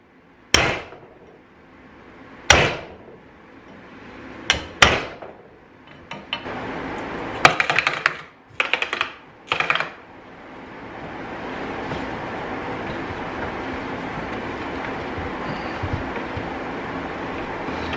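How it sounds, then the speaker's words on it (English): A hammer strikes a punch to knock a part off a Volkswagen Mk1 Caddy, sharp metallic clangs in an irregular series of single and doubled blows, followed by a steady background hiss. "I just used a hammer and punch and started"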